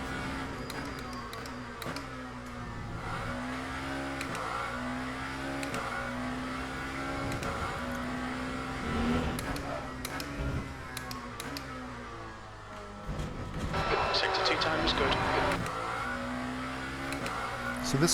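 Lamborghini hypercar in the Le Mans Ultimate racing game, its engine droning and shifting pitch continuously as it accelerates and brakes around a track, with tire noise and a louder burst near the end.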